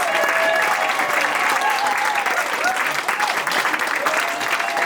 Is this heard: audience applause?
yes